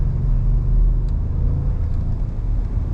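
A 2021 Ford F-150 Tremor pickup with the 3.5-litre engine accelerating gently, heard from inside as a steady, loud low rumble and whir that holds throughout with no talking.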